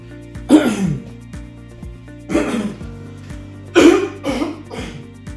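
A person with a cough brought on by cold weather coughs and clears their throat in three harsh, separate bursts, each followed by a pause.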